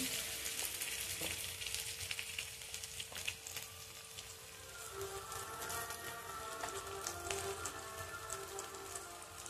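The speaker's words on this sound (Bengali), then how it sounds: "আদা রসুনগুলো ভাজা হয়ে গেছে, এবার এর মধ্যে একটু হলুদের গুঁড়ো" Ginger and garlic sizzling steadily in hot oil while ground spices such as turmeric go into the pan, a continuous close crackling hiss with small pops throughout and no talking.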